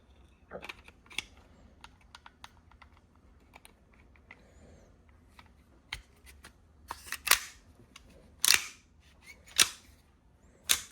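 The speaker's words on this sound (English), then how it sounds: "Put your pistol back together." Parts of a Beretta PX4 Storm pistol are handled and fitted back together, giving scattered close clicks, a few sharp metallic snaps and slides growing louder toward the end.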